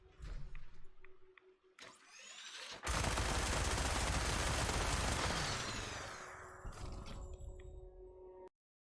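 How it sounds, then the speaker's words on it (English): A minigun fires in a video game, beginning with a few short clicks and a spin-up before a dense, loud, continuous roar of rapid fire that lasts several seconds and then winds down and cuts off. No one speaks. "Next up is the regular minigun."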